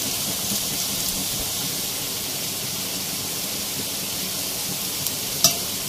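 Chana dal koftas frying in oil, a steady, even hiss of bubbling oil throughout, with a faint clink near the end and no talking.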